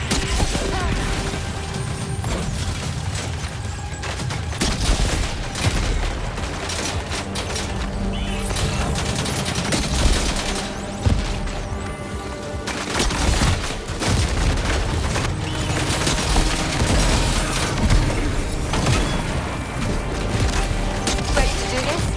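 A sustained volley of gunfire in the video game Death Stranding 2: On the Beach: loud, dense overlapping shots and booms that run continuously with hardly a pause.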